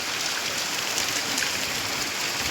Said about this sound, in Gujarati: અમારે ધોધમાર વરસાદ ચાલુ થઈ ગયો છે